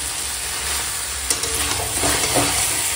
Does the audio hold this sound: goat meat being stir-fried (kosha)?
yes